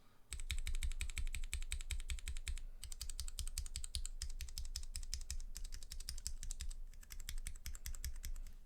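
Scratchy brown mechanical keyboard switches typed in fast, steady bursts broken by short pauses, close and clear with no voices.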